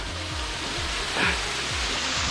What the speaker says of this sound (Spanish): Logré llegar a la pequeña cascada que encontramos acá.